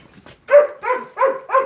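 Puppies bark and yip close by in four quick, high, whiny bursts in a row, loud and clear with no talk.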